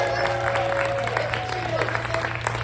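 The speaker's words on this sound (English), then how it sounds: "another round of applause for Sasha Eden" Audience applause at a stand-up comedy night, steady clapping from a crowd throughout, with a voice talking over it and a low constant hum underneath.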